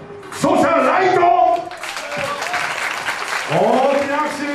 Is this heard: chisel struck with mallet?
no